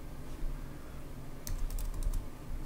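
A short flurry of quiet clicking keystrokes on a Mac computer keyboard, heard as a quick burst of taps in the middle of otherwise near-silent room tone.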